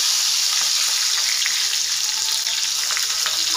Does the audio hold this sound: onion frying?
yes